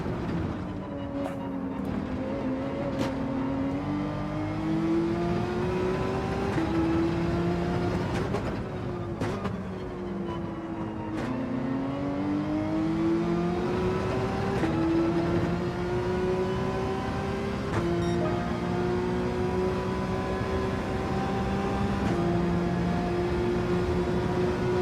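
A Porsche race car's engine drones in Gran Turismo 7 with a steady, tonal whine that climbs through the revs, drops at each gear change or braking point, and rises again over nearly twenty-five seconds.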